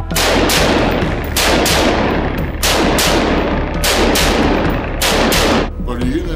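Rapid bursts of AR-15 rifle fire, loud and close, with about seven sharp volleys of several shots each separated by brief pauses across several seconds, and no talk over them.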